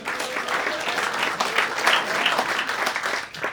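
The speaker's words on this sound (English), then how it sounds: "By a round of applause." A comedy club audience bursts into loud, dense applause during a stand-up special. The clapping is sustained and close with a few scattered cheers mixed in, then starts to taper off near the end.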